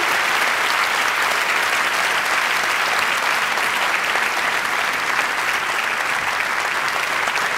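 Dense, loud audience applause welcoming a Turkish music society choir and a saz ensemble onto a concert stage, an even, unbroken roar of many hands clapping throughout.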